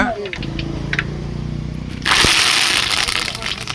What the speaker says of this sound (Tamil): வெந்தயமும் கடுகும் போட்டிருக்காங்க